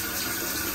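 Shower water spraying onto a small dog, a brief, steady hiss of gushing water at close range with no talking.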